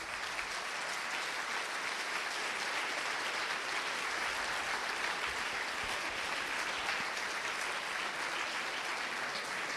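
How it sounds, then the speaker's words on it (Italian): An evening audience at a cultural event welcomes a guest with sustained applause, a thick, even roar of many hands clapping that holds steady for nearly ten seconds without voices. "Quindi io accoglierei con un applauso Nuccio Ordine qui questa sera a Segnavie."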